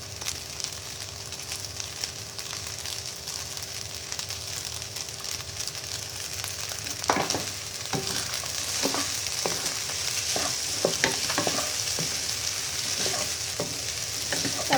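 Shrimp fried rice being stirred in a hot pan: a steady background sizzle, with a run of sharp utensil scrapes and knocks starting partway through and repeating irregularly to the end, close and moderately loud.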